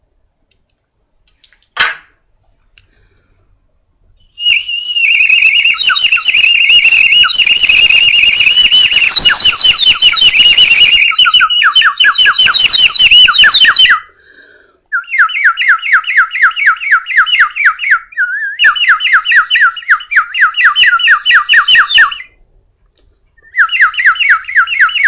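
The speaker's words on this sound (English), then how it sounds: "if you put water in the whistle, it sounds like a bird" Water-filled bird whistle blown in short and long bursts of shrill, trilling warble like birdsong, loud and close, separated by brief pauses.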